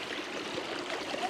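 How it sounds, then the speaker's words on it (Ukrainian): Water pouring steadily out of a pipe by the sea, a continuous splashing rush heard close and fairly loud for about a second. "І тут вода з труби"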